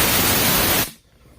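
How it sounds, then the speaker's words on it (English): Loud, steady rush of compressed air blowing out a space heater and its blades, cutting off abruptly near the end into quiet background. "So I just take it and blow it out real good"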